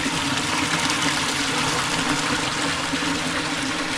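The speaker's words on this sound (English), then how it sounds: "Waterfall." A waterfall near a tidal river rushes as a continuous, steady broadband roar, close and even with no pauses.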